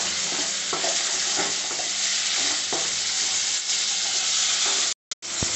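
Cashews sizzle in hot oil for a paneer curry, a steady, close, bright frying hiss with faint stirring clicks, broken by a brief drop to silence near the end.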